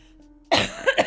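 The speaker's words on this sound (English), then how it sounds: "That's why we've both been coughing for months now." One person gives a sharp, close cough from allergies, followed by a couple of smaller throaty coughs in quick succession after a quiet hum of background.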